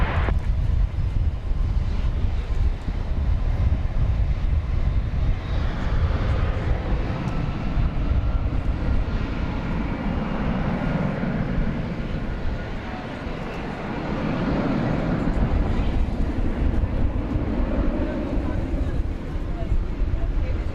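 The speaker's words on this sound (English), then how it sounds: "We can always expect a very snappy liftoff for a 757." Boeing 757 jet taking off at night from runway 18 left at DFW Airport, a continuous loud broadband roar of engines and wind, swelling and shifting as the aircraft powers down the runway and climbs away.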